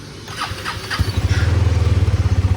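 A Honda motorcycle cranks briefly and fires up, settling into a steady, close, rhythmic idle thump.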